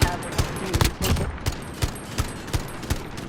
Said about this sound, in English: I couldn't hear you over the gunshots.